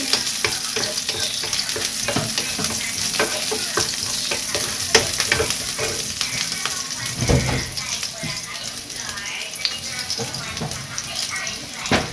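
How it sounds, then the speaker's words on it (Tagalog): Onions go into a pan and sauté, a continuous sizzle with frequent spatula scrapes and taps, close up, while a voice speaks over the cooking. "magigisa na tayo. Sabayin na natin ng sibuyas."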